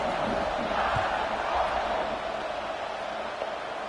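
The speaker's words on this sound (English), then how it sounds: "this crowd is buzzing after that last score" A stadium crowd in the College Football 26 video game buzzes after a score, a steady, fairly loud roar of many voices with no distinct cheers standing out.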